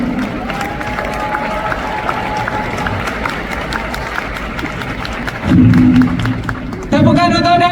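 Audience at an Amway recognition mega rally in Kuala Lumpur breaking into a dense wash of clapping and cheering that swells and fades, partly under a voice speaking over a PA, with a brief burst of music near the end.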